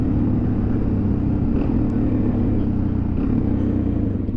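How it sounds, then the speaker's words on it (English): A motorcycle being ridden on the road gives a steady, loud engine rumble mixed with wind noise, continuous and close throughout with no talking. "This bike is really fun to ride."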